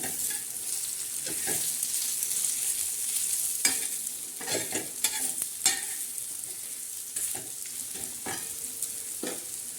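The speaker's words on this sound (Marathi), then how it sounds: "हे बघा आता छान अशा मस्त ह्या वड्या आपल्या भाजत आहे" Coriander vadis made with horse gram and pearl millet flour, green chillies, cumin and garlic shallow-fry in a pan. A soft continuous sizzle carries scattered stirring clicks and scrapes, close up and with no voices.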